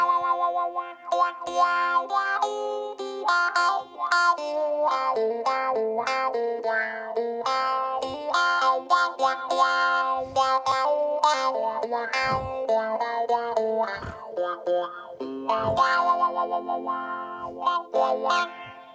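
Electric guitar played through an MXR Talk Box effect, shaped to mimic a harp and a train in a country style, producing continuous, heavily processed and distorted notes with shifting tones, loud and close with no talking.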